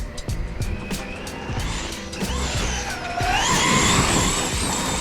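A Traxxas XRT RC truck running on big tires wrapped in Gorilla Tape, a whining electric motor that rises in pitch as it speeds up, with tire scrubbing and a few sharp clicks, close and loud.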